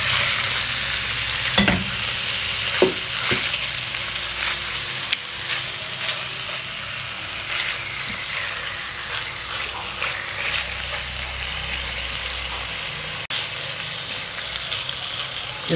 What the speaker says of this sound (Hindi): इसको हम थोड़ा सा इसके अंदर जो है ऑयल के अंदर फ्राई करेंगे